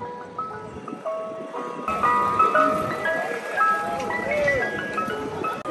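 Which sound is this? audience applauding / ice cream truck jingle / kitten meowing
ice cream truck jingle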